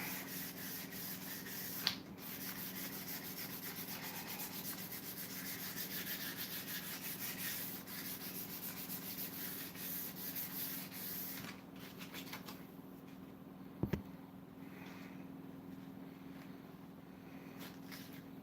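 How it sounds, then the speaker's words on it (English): Hand sanding wood to 240 grit, a steady close rubbing rasp continuing for most of the stretch over a low hum, with a couple of sharp knocks and the sanding briefly easing near the end. "just sand to 240 grit and she'll be right."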